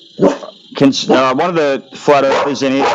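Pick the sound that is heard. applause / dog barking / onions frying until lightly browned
dog barking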